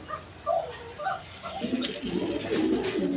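Chinese owl pigeons coo in a few soft, short low calls, then a denser stretch of cooing and rustle follows close by.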